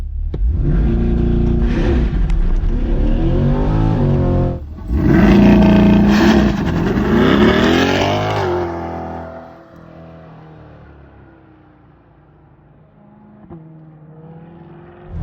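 Mid-engine Chevrolet C8 Corvette on a track day, loud sustained engine roar climbing through revs during a hard launch, a brief dip at a gear change, then fading away into the distance.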